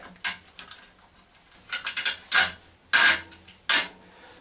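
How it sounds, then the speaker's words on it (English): A screw is driven into a fender mount on a Harley-Davidson springer fork in a home garage, giving close, intermittent ratcheting and grinding bursts, about six in all, with quiet gaps between them. "We drive the screw through"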